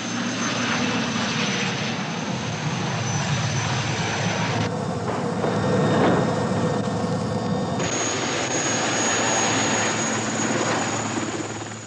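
Helicopter carrying an airborne demolition party, a steady loud rotor and engine roar that holds throughout at close range, broadband and droning with no talk.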